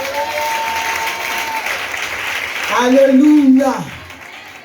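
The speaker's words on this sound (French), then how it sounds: "Si tu acceptes cela, acclame Jésus." Congregation at a church service applauding to acclaim Jesus, steady broad clapping throughout with voices and a sung call rising over it near the end.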